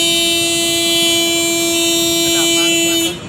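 A Komatsu D155-6 bulldozer sounds its horn in one long, loud, steady blast lasting about three seconds, then cuts off abruptly, heard close.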